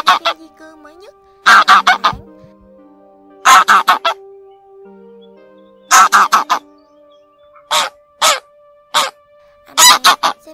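Wild geese honk and call to the flock in loud, close bursts of several rapid honks, repeating roughly every two seconds, with fainter background calls between.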